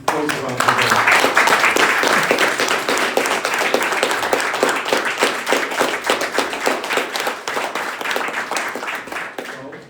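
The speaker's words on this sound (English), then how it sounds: "great applause to Andrew, who goes around the world" Conference audience in a hall bursts into sustained applause, dense clapping that starts loud and slowly thins over about ten seconds.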